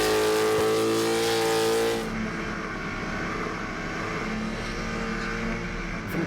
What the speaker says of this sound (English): Another carburetted blown car this time.